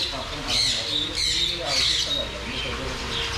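Birds in a huge backyard aviary in Kerala give repeated harsh, high squawks in several bursts, close by, with a voice murmuring underneath.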